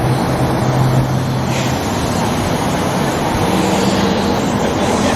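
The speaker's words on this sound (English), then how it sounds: "We're going on the train." Steady, loud rumble of a train rolling along the rails, with continuous wheel and carriage noise and no break throughout.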